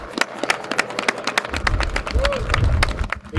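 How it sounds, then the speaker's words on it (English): A crowd at a Veterans Day event breaks into scattered clapping that builds into fuller applause, outdoors with some background noise and murmuring voices. "Round of applause for the work that he did from this together."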